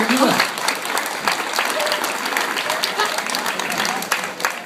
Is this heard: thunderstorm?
no